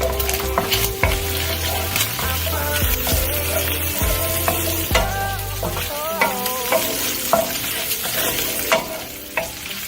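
Fat rendering in a pan on a stovetop sizzles steadily and close, alongside some tonal background sound and scattered clicks, loud throughout without talking.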